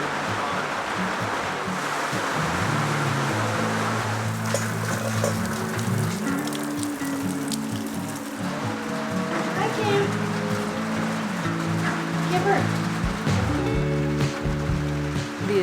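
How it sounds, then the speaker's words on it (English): Rain pours steadily onto a metal roof over an off-grid home, a dense continuous hiss and patter, while a person talks over it throughout. "the sound of the rain coming down on our metal roof"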